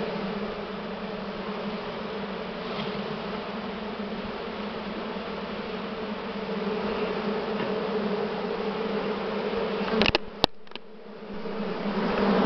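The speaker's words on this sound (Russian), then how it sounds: "Вот сколько пчелы тут за перегородкой." Honey bees hum steadily behind a partition in a hive during nest expansion. The drone is dense and continuous and stays close. A couple of sharp knocks near the end briefly break it.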